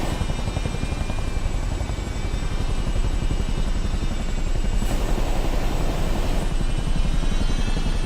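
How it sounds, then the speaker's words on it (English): Jet helicopter in Microsoft Flight Simulator, a steady loud turbine whine with a fast rotor chop running throughout, alone without voices. "No, it's a jet helicopter."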